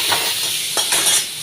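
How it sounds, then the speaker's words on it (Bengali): Mango pieces frying in a mustard-seed and dried-chilli tempering make a brief bright sizzle, with a couple of soft stirring scrapes. "সর্ষে শুকনো লঙ্কা ফোড়নে দিয়ে দিয়েছি, এবার আমগুলো দিয়ে দেবো"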